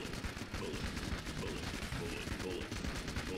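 Rapid continuous gunfire in the video game Enter the Gungeon, dense bursts of shots packed together at steady loudness with no pauses.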